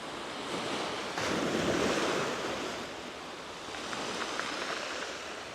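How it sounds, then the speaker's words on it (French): Sea surf breaking below a high cliff in Spain, a steady broad wash of waves heard from above with wind buffeting the microphone. "je suis sur une falaise qui surplombe la mer."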